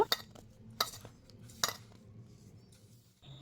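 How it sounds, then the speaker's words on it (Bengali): A spoon mixing flour and milk powder with ghee in a bowl, three sharp metallic clinks spaced apart with quieter scraping between them, close and alone. "এবার খুব ভালো করে ঘিয়ের সঙ্গে ময়দা আর গুঁড়ো দুধের মিশ্রণটা মিশিয়ে নেব"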